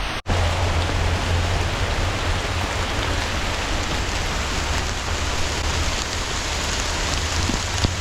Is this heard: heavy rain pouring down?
yes